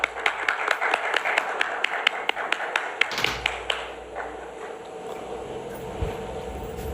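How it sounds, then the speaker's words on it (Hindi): An audience at an award ceremony claps in a brisk run of sharp, fairly close claps that thin out after about three seconds, leaving scattered clapping over a low room hum. "जोरदार तालियां।"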